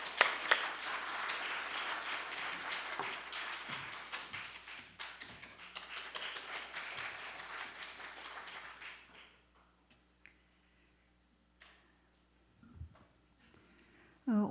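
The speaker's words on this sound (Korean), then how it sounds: "큰 박수로 모시겠습니다" An audience at a Korean patient-centered healthcare society's founding conference applauds as a speaker is welcomed, a brisk crowd clap that runs for several seconds, then thins to scattered hand claps and near silence with small room noises.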